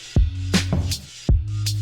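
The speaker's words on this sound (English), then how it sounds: "Very simple bass line. It's only 2 notes." A simple two-note synth bass line built in Serum, with deep punchy low notes entering in two clear hits and rhythmic sustain, plus brighter synth texture above, played loud and close with no talking.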